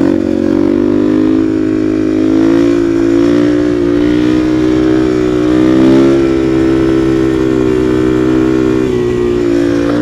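Dual sport motorcycle riding along a straight road, a loud close steady engine drone with slight rises and falls in pitch as the throttle shifts, continuous for the whole stretch with no talking.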